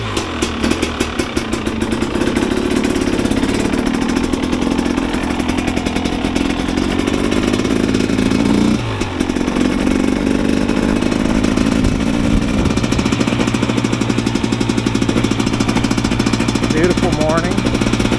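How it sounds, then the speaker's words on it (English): A 2022 Husqvarna TX 300 two-stroke motorcycle being ridden on a ride to warm up its oil, a loud, rapid, rattling engine buzz up close with rising and falling revs, and a voice talking over it. "I'll just jump on my bike at home and go for a little ride"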